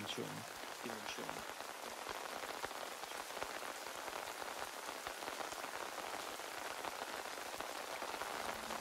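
Steady rain falling on a surface, a soft, even patter of many drops heard close and continuous throughout.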